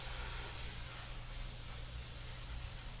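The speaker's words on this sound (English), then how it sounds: "I'm hoping this spray will spray any of them down and in too." A spray bottle mists water onto microgreens as one continuous, fairly quiet hiss over a low background hum.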